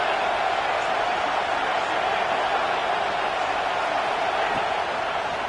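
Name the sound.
football stadium crowd cheering on third down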